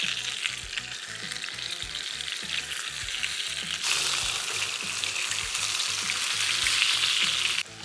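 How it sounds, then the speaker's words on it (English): Steak searing on its edge in a pan from a cookware set, a steady loud sizzle and crackle of frying that holds throughout, with a brief dip at the very end. "so I can grab it on the edge, so I can sear and get some edge searing."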